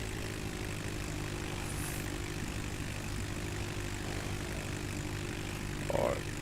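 Steady propeller airplane engine drone from a flight simulator, a small plane flying from Michigan City Municipal to Meigs Field, holding at constant volume throughout with a brief brighter blip near the end.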